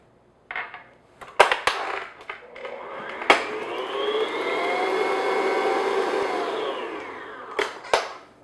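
An electric mixer beats an egg into peanut blossom cookie dough, whirring steadily for several seconds between sharp knocks and clatters of handling the bowl.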